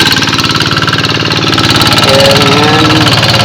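A tractor engine works a rice paddy after a combine harvest, running close and loud with a rapid, regular knocking pulse and a slight rise in intensity toward the end.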